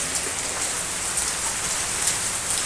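Heavy rain pours down outdoors in a steady, dense hiss of drops drumming on surfaces, loud and close throughout with no voices.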